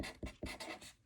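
Pencil or pen scratching on paper in a first-grade writing lesson, a few short soft strokes close by, quiet and without talk.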